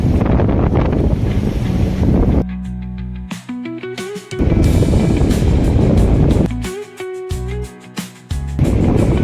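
Sea waves and strong wind at Dabhari beach, loud continuous surf and buffeting wind on the microphone, broken by two short stretches where a faint tonal sound stands out.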